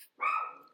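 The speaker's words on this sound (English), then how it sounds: "Sorry about the dog in the background." A dog barks once in the background, a single short, fairly faint bark that trails off quickly.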